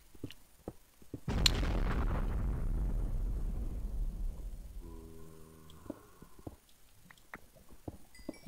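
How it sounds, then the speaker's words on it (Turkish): A sudden loud explosion in Minecraft booms and rolls off into a long rumbling decay, followed by faint scattered pops and a brief electronic tone. "ne patlamasıydı bu?"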